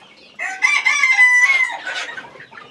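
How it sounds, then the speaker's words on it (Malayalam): A rooster crows loudly among fancy chicken breeds such as Brahmas and Polish caps in a pen on a large mixed farm in Kerala. One drawn-out call of about two seconds rings close and clear, with no talk over it. "നമ്മുടെ ഫാൻസി കോഴികളുടെ സെക്ഷനാണ്."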